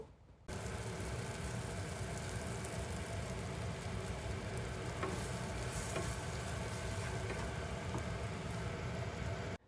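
Roasted semolina is stirred together with fried spices in a pan, with a steady, continuous scraping and sizzle running close and loud through the whole stretch and no talk.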